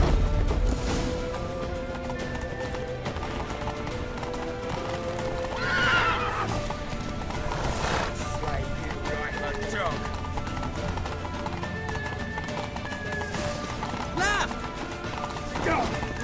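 In The Witcher 3: Wild Hunt, a horse neighs and whinnies while hooves clip-clop at a gallop, mixed with game effects and a player talking throughout.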